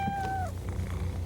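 A cat lets out a single short, clear meow that slides downward, close and fairly loud, followed by quiet room sound.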